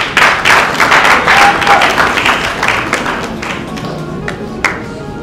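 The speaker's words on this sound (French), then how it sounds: "Les applaudissements s'il vous plaît." An audience at a certificate ceremony in a hotel claps in a dense burst of applause that holds steady and then thins toward the end, loud and close.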